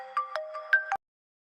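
An incoming call rings on a phone: five quick electronic tones in a bright melodic pattern, then the ringtone cuts off abruptly into silence.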